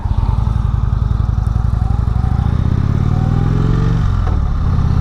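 A 2016 Indian Springfield motorcycle rumbles steadily while riding, its loud, close engine drone holding even before a short shift in pitch near the end.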